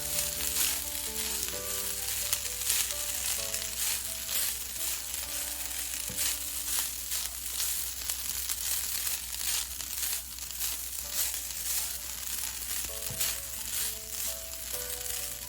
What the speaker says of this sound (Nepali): हामीले यो रेसिपी चाहिँ मिडियम टु हाइटमा राखेर छिटो छिटो यसलाई चलाउँदै पकाउनुपर्छ